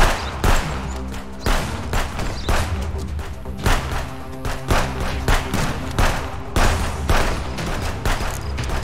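A rapid string of loud, close gunshots fires in irregular volleys during a shootout in the video game Contraband Police, with a dozen or more cracks spread across the stretch.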